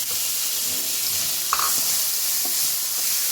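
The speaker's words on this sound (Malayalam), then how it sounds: "സവാള ഇത് ഏതാണ്ട് ഒരു വലിയ സവാള ചെറുതായി അരിഞ്ഞതാണ്. നമുക്ക് ഇതിലോട്ട് ഇടാം." A large, finely chopped onion hits a hot pan and sautés with a loud, continuous sizzling hiss. A couple of faint stirring knocks rise briefly above it.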